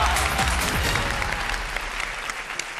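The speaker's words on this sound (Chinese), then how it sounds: "你们还为他鼓掌" A studio audience applauds steadily on a Chinese television game show, the crowd's clapping sustained and fairly loud across the whole moment with no voices over it.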